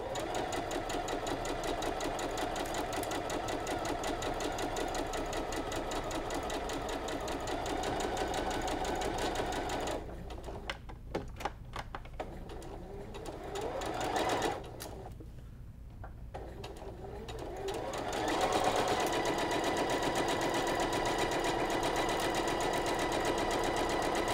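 A sewing machine stitches quilt fabric in rapid, close runs, stops for several seconds while the presser foot is lifted and the fabric repositioned, then resumes stitching at a steady pace.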